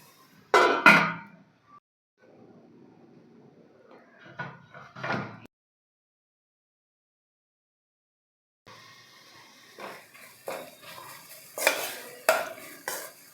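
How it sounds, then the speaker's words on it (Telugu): A garam masala mixture for paneer bhurji is stirred in a pan in short bursts of scraping and clatter, separated by a long silent pause, then followed by busier scraping strokes. "గరం మసాలా ఇవన్నీ వేసి బాగా కలపాలి"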